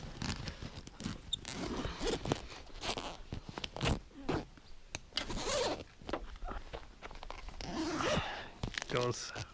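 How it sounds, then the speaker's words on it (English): A zipper on the cover of a Tepui rooftop tent is pulled open in long ripping runs outdoors, close and fairly loud, with brief pauses between pulls. "So I unzip it."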